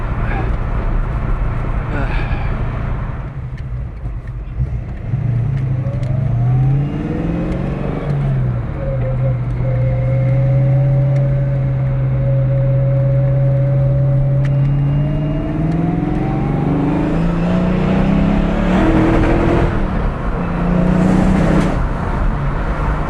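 A Ford Fox Body car engine revs unevenly as it misfires, a steady droning tone rising and falling with wavering pitch, while a person talks over it.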